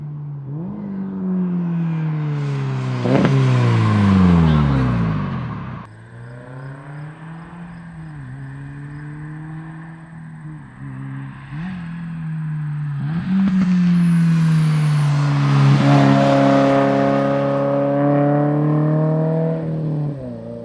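A GR86/BRZ fitted with a Tomei Expreme Ti titanium exhaust revs loudly and close by, rising and falling through several throttle blips, with small crackling pops on deceleration between the revs.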